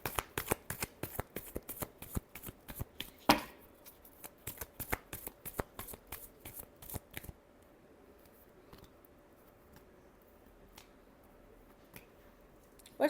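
Tarot cards shuffled in rapid riffling bursts, a dense run of crisp slaps and clicks for about seven seconds, then quiet with a few faint taps.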